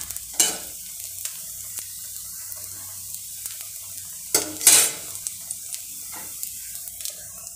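A mullu murungai roti fries in a little oil over a low flame. A soft, steady sizzle is broken by a few loud, brief spatula scrapes and stirs close by, with no talking.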